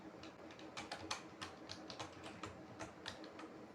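A command is typed on a computer keyboard: quiet, close key clicks in an irregular quick rhythm, with no voices.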